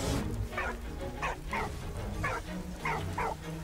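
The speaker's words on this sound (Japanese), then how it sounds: "ってことはワンちゃんだ" A dog in the video game Valiant Hearts gives six short yips and whimpering barks in an uneven rhythm, fairly faint over a low game background.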